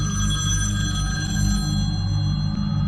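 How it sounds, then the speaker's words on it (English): A telephone rings steadily and loudly, its electronic tone holding unbroken throughout, with a low hum underneath and no speech. "if a phone rings on Halloween, you just don't answer it"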